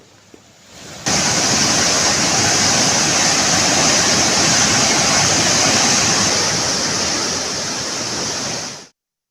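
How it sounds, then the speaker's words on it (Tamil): Dam water released into the Kaveri river at about 69,070 cubic feet per second rushes with a loud, steady roar that starts abruptly, holds for several seconds, then cuts off. "அறுபத்து ஒன்பதாயிரத்து எழுபது கன அடி தண்ணீர் காவிரி ஆற்றில் திறக்கப்பட்டு வருவதால்"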